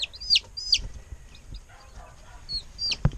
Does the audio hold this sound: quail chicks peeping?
yes